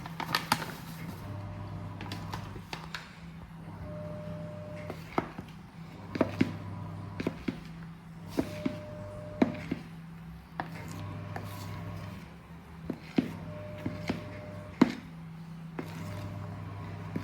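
A spoon works stiff buttermilk rusk dough in a bowl, giving repeated scraping and knocking strokes against the bowl at a steady, laboured pace, close up over a constant low hum, with no talking.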